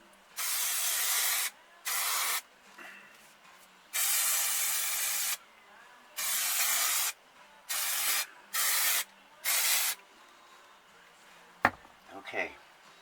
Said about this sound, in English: I'm just going to spray the back of the carpet now.